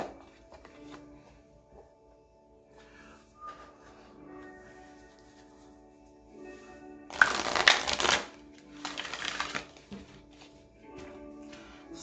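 Tarot soul cards are shuffled in two short, brisk riffling bursts, with faint tapping and handling noises around them in an otherwise quiet room.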